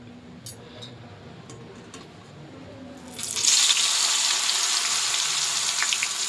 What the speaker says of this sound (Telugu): పొటాటోస్ అన్నీ సన్నగా ముక్కలుగా కట్ చేసుకున్నాం కదా, అవన్నీ డీప్ ఫ్రై ఆయిల్లో వేసామండి